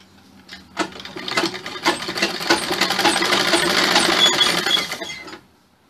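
A sewing machine stitching a blouse runs in one continuous close, fairly loud burst of rapid mechanical chatter lasting about four and a half seconds, opening with a clunk and stopping abruptly.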